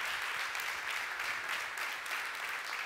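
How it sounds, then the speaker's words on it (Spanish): Steady, continuous applause from a church congregation at a Sunday service, a broad even wash of clapping heard from some distance. "den ese aplauso fuerte al Señor"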